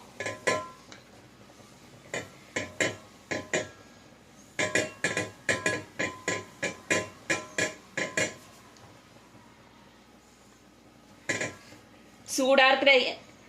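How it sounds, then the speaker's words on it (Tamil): An old cloth soaked in oil is rubbed across a hot dosa pan, giving a quick series of scraping swipes in bursts, with a busier clatter of strokes near the end. "துணி எடுத்துட்டு நல்லா அந்த மாதிரி தோசை சட்டி ஃபுல்லாக தேய்க்கணும்."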